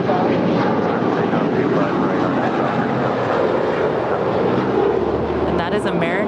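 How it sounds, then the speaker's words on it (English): A seven-year-old American Airlines Airbus A321 taking off at LAX, its jet engines producing a loud, steady broadband roar that holds throughout, with a brief higher whine near the end. "that is American 1637 heading off to Charlotte, North Carolina. It's a 7-year-old A321."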